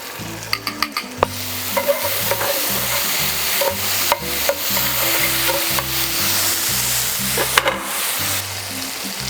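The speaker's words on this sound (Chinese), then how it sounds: "放入一点黑椒汁。" Black pepper sauce fries in a pan with mushrooms and foie gras fat, a steady close sizzle under repeated scraping and clacking of a spatula stirring the mix, loud and busy, with no one talking.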